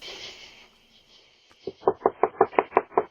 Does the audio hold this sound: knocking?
yes